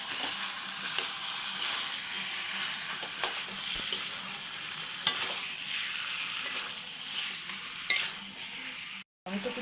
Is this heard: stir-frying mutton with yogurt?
yes